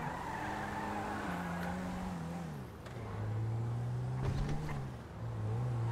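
A drifting limousine in a video game, engine droning with gliding pitch shifts and a loud tire squeal midway, continuous and close.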